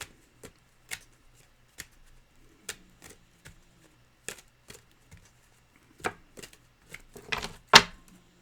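Angel love oracle cards being shuffled and pulled from the deck, giving a string of sharp papery snaps and flicks at an uneven pace, building to a louder riffle near the end, close by with no talking.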